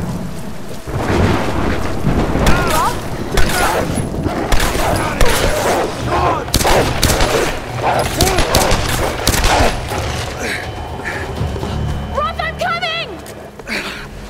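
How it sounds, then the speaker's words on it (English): Video game gunfire in Into The Wolf Den, loud repeated bursts of shots and rumbling blasts over a steady rain-like background, with a character's voice talking through parts of it. "I heard gunshots"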